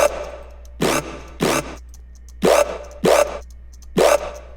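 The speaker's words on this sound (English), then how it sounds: "That's like a signature like KOMPANY growl." A KOMPANY-style growl bass synth built in Serum and Ableton plays six loud, short, gritty bursts in a fairly regular rhythm, separated by a quiet hum.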